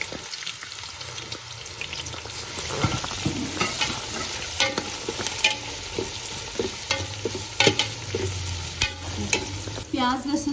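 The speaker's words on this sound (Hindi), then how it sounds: "प्याज तो तकरीबन हम गोल्डन ब्राउन होने तक पकाएंगे।" Onion frying in a pan after garlic has been browned, cooked toward golden brown: steady close sizzle with scraping stir strokes throughout, no talking.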